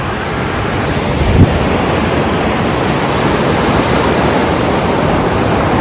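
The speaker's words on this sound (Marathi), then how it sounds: "समुद्रांच्या लाटा" Sea surf washing onto the Konkan shore, a steady broadband roar of waves lasting throughout with one slightly louder surge early on, heard alone with no voices.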